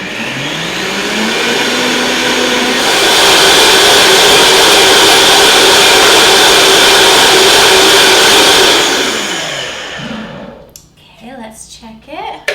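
A blender whirs through a cashew mixture for raw ranch dressing, starting at low speed and then ramping up to a loud, steady high-speed roar before cutting off, followed by brief talking.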